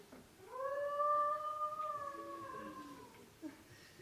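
A wolf howls in one long, clear, sustained tone with a slight rise and fall, moderately distant and alone against a quiet background.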